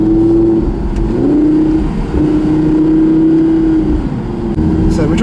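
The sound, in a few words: Audi R8 engine while driving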